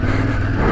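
A Yamaha Ténéré 700 motorcycle rides across a field, a brief close, loud, steady engine drone with rough low rumble and no talk.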